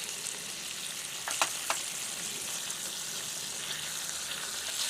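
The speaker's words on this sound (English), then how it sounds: "And I've got some of these little green beans in a cup. I'll cook those." Green beans cook in a pan at a camp stove by a lake, giving a steady close sizzle with a couple of brief clinks partway through and no voices.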